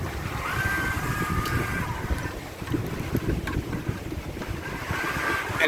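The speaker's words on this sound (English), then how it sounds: "Right now we're running wing on wing, downwind, 5+ knots, sometimes hitting 6." A solo sailboat runs wing on wing downwind at five to six knots before dawn, with a steady wash of wind and water rushing past, constant and fairly loud, and occasional creaks and knocks from the boat.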